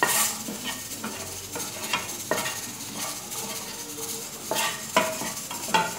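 Salted eggs roasting in masala in a pan on a low flame, with a light sizzle under regular scraping and clinking stirs of a spoon against the pan, heard up close.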